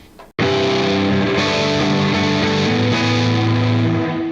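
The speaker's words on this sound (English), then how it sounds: "that's its bright reverb mode" A guitar played through an effects pedal set to bright reverb mode rings out loud and distorted on a post-metal and ambient pedalboard, sustained chords washing into a thick shimmering tail after a sharp attack.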